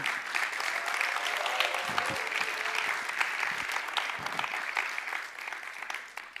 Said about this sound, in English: Another round of applause for Dagan!